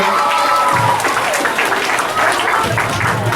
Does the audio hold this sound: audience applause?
yes